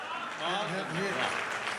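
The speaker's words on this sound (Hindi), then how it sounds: "मेरे लिए घनघोर तालियां बजा दीजिए।" Audience applause at a poetry recital during the 2022 Aligarh Mahotsav kavi sammelan, a steady, dense crowd clapping that swells slightly and holds for about two seconds.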